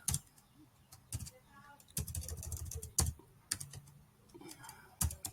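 Computer keyboard typing while working in an Excel spreadsheet: irregular clusters of close, crisp key clicks with brief pauses between bursts.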